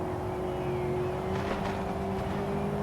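Steady engine drone from a car driving in Forza Horizon 5 rally racing, holding a level note with a slight rise and no talking over it.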